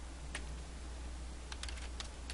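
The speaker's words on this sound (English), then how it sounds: "So I'm going to type" Keys tapped on a computer keyboard, a few light clicks in a short scattered cluster, quiet and close over a low hum.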